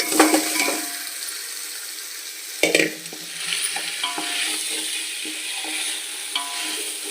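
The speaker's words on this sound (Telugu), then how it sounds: "ఫ్రై చేసుకున్న చికెన్ ఉంది కదా అల్లం వేగిపోయింది ఇప్పుడు చికెన్ వేసేసుకుందాము" Fried chicken pieces tossed into a pan of frying ginger for restaurant-style biryani, giving a loud sizzle with scraping and clinking of a spoon stirring against the pan in irregular bursts.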